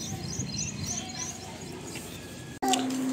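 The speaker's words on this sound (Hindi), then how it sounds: "पक्षियों की आवाज़ आ रही है" Birds chirp outside a house, with faint, repeated high tweets over a steady background hum, followed by a brief dropout and a louder tonal sound.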